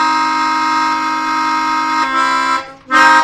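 Two sustained tones sounding together as a minor third interval, held steadily and loud, then cut off and struck again briefly at the end, with no voices.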